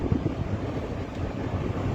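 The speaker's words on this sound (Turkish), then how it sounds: "Ama fena rüzgar var." Strong wind roars and buffets the microphone in a dense, steady rumble during a forest fire on the Karaman–Mut road in Turkey, with no voices.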